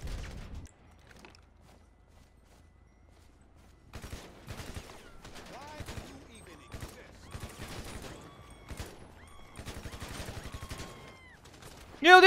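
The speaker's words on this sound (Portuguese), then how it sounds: "Eles são de metralhadora, véi!" Bursts of rapid machine-gun fire erupt in GTA 5 zombie-mode gameplay, faint at first then in repeated clattering volleys, with excited voices talking over the shooting.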